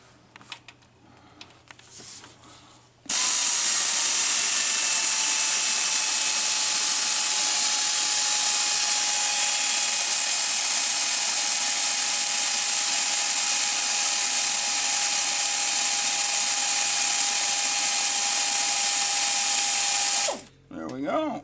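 A power tool spins a fuel pump off a Mercedes-Benz M110 engine in a W114, a loud, continuous high whine running about seventeen seconds before cutting off, with quieter workshop sounds before and after.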